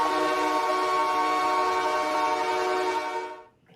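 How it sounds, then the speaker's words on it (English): A train horn blasts in one long, loud, steady chord for over three seconds, then cuts off abruptly. "Train's coming through."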